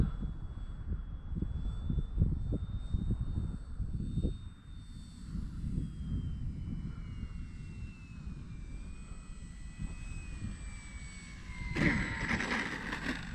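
A Dynam Skytrainer 182 RC airplane flies in to land, its small motor giving a thin, faint whine that slowly shifts in pitch as it passes, over wind buffeting and outdoor rustle.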